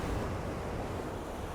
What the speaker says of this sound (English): So I'm just waiting for a big set to come smashing through this gutter here.